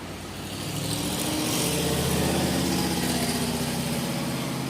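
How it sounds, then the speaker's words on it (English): A beat-up pickup truck drives past, its engine rumbling in low and rough as it swells to a steady, close drone and holds there to the end. "there goes Mr. Beat Up Pickup Truck"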